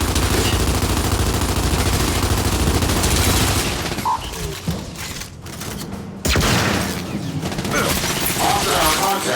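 Automatic gunfire from the video game Gears 5 rattles in loud, dense bursts. It drops away briefly mid-way, then resumes hard, with clicks and mechanical noises mixed in.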